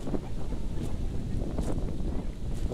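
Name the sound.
strong wind blowing at a campsite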